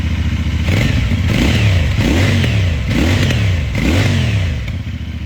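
A sport motorcycle built for track riding is revved in a showroom, its engine rising and falling in about five quick throttle blips over a loud, steady idle.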